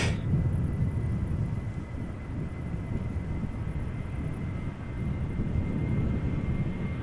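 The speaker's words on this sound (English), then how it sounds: "this is KLM flight 1289 going to Edinburgh" A KLM airliner at Amsterdam Schiphol Airport, a steady, broad engine roar at moderate distance that holds throughout with no voices.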